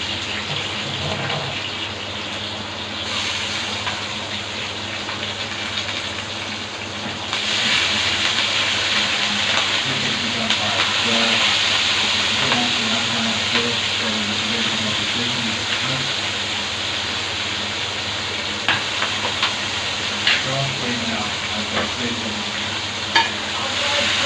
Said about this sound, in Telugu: బాగా మిక్స్ అయ్యేలా చూసుకోవాలి బాగా వేగాలి కూడా